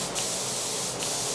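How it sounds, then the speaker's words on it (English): A paint spray gun in a well-ventilated spray booth flushes thinner out to clear leftover paint: a steady, close, loud hiss that runs unbroken, with no talking. "I'm going to put a little bit of thinners in it and I'm going to spray it out"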